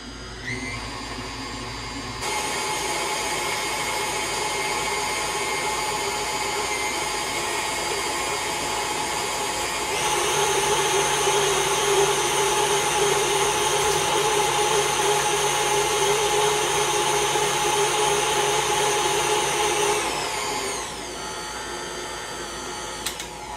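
A stand or hand mixer runs steadily on vanilla pudding for a creamy texture, a loud continuous motor whine that steps up in intensity partway through and then stops near the end, with no talking.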